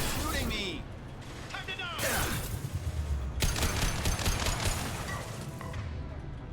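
Gunfire in the sci-fi shooter Mass Effect 2, with bursts of shots and mechanical clatter amid a busy firefight, under game noise throughout.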